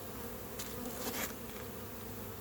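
Bees from a captured swarm buzz around a hive, a faint, steady, distant drone under a broad background hiss, with one brief swell as an insect passes closer.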